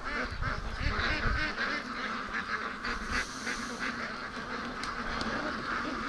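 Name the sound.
ducks quacking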